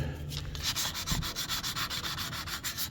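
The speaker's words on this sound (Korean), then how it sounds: "사포로 용접 부위를" Sandpaper rubbed briskly back and forth on the weld area of a copper pipe, a rapid rhythmic scratching of about a dozen strokes, close and clear.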